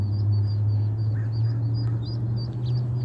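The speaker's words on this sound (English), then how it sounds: "oh my gosh, it's the ducklings" Ducklings peep in a cluster of high, thin calls, several short chirps scattered over a steady low hum, fairly close and without speech.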